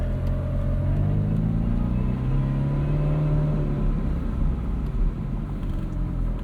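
A 2008 Ferrari F430 Spider with its V8 pulling away in manual mode, a steady, close engine rumble with a rising tone and no pauses.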